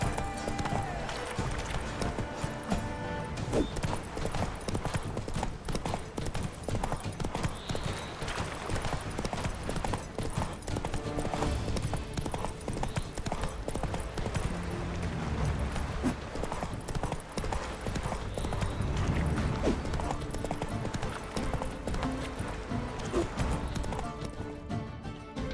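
Horse galloping in The Witcher 3, rapid rhythmic hoofbeats pounding continuously over game music and ambience, steady and close for the whole stretch.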